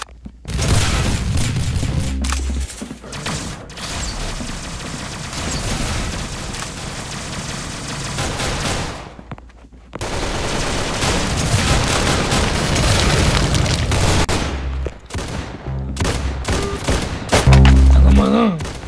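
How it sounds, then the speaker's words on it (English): Loud, dense fireworks show in the Roblox game Arsenal, with rapid overlapping bangs and crackling bursts sustained almost continuously, briefly cutting out midway before resuming with heavy booms. "Get the fireworks over."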